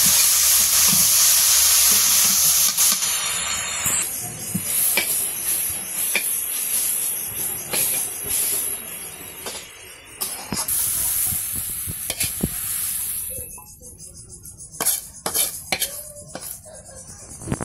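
Leafy greens tossed into a pan of fried onion, green chili and garlic, a loud hiss that gradually thins into sporadic sizzling broken by sharp scrapes and clanks of stirring.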